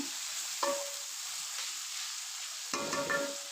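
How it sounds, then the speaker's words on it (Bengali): Onions frying in a pan with a soft continuous sizzle, broken by two short bursts of spatula stirring and scraping, close and fairly quiet. "আমি নাড়াচাড়া করে বাদামি কালার করে নিচ্ছি আমার পেঁয়াজ গুলো লালচে লালচে হয়ে আছে"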